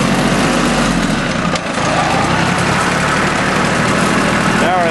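A Yanmar YM1401D four-wheel-drive diesel tractor engine chugs steadily at close range, dipping briefly as a gear is shifted, then resuming its even, rattling drone.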